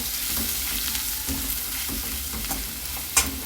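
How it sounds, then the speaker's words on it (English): Onion, green chili and dal sauteing in a pan: a strong, continuous sizzle up close with the rhythmic scraping and knocks of stirring, plus a sharper clink near the end. "green chili and dal, and add the onion also, and sauteed onion,"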